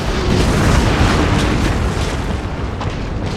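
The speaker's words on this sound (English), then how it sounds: "So now I think we're just going to bombard them from range." Artillery bombardment in a Total War: Napoleon battle, a loud continuous rumble of booming shell blasts and bursts, dense and overlapping, with no clear gaps.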